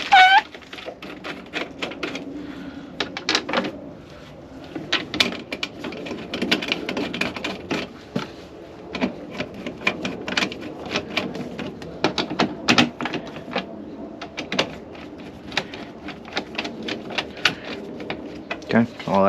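Three screws driven into a Pentair pool heater: a long run of dense, rapid mechanical clicking and rattling, near and fairly loud, with short pauses and occasional sharper knocks, while a person talks at times.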